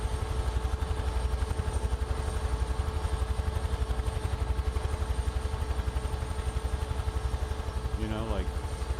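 Helicopter in Microsoft Flight Simulator 2024 played in VR, a steady rhythmic rotor chop with a low engine hum running evenly throughout, fairly loud, with a brief higher warble near the end.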